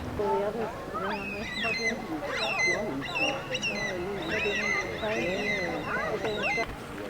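Forest red-tailed black cockatoos, freshly released in a national park, keep up harsh, honking calls over several seconds, moderately near and overlapping, with people speaking quietly in the background.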